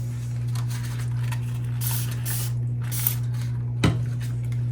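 Several quick hissing bursts of 99% alcohol from a spray bottle, spaced irregularly over a steady low electrical hum, fairly quiet.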